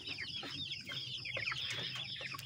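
Many farm chickens cluck and chatter together at evening feeding in a steady, busy chorus, with occasional louder calls rising above the flock.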